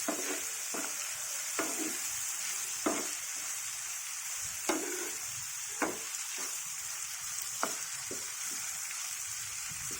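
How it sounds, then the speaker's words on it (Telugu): Amla and green chillies fry in oil, giving a steady quiet sizzle broken by repeated short scrapes and clinks of stirring, with no voices. "ఇది వేగుతుండగా పచ్చిమిర్చి కూడా వేగాలండి బాగా"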